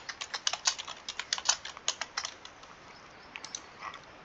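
Fingers tap out a captcha on a computer keyboard, a quick close run of crisp keystrokes that slows to a few scattered taps, with no talking.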